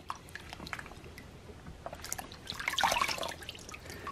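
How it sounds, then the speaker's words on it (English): Processed quail being rinsed under running water, a soft trickle and drip that swells into a brief, louder splashing burst near the end. "rinse them off in the water here"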